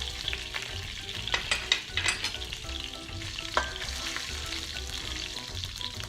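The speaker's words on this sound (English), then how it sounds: "And I'm going to put my zira, whole zira." Whole cumin (zira) seeds crackle and sizzle steadily in hot oil with bay leaves, with a few sharper pops and light stirring clinks along the way, no voices over it.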